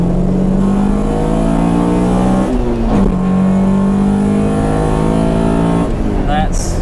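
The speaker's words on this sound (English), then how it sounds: "All right, I'll snap a little VTEC. We'll do a little pull here." A Honda CRX with a B16 engine revs hard in a second-gear pull into VTEC, its rising engine note climbing loud and close, easing briefly, then pulling again before a shift near the end.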